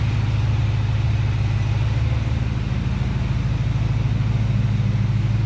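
A 1976 Chevy Luv pickup truck engine idles steadily through a newly installed exhaust system, a deep, even rumble close by with no speech.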